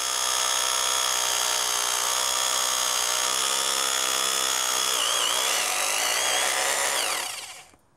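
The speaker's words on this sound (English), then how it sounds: "Now what we're using here is a hammer drill." A hammer drill bores holes into concrete for installing a post, a loud, steady high-pitched whine running continuously for about seven seconds before cutting off abruptly near the end.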